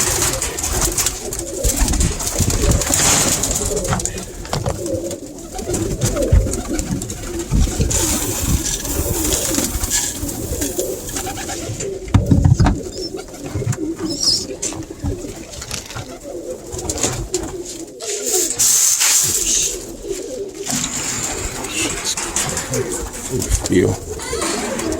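Pigeons coo in a loft, a dense, continuous chorus of soft throaty calls close by, with a voice talking over them.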